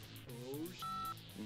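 Electronic phone keypad tones from an animated action short, a few steady beeps near the middle, preceded and followed by voices and swooping effects.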